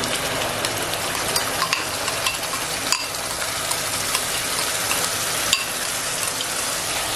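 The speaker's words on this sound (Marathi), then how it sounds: "वाटण मात्र छान असं ना एकदम मस्त असं परतून घ्यायचं." Ground masala paste sautéing in hot oil for a karli fish curry, a steady crackling sizzle with faint scraping stirs and occasional sharp pops, close and continuous with no voices.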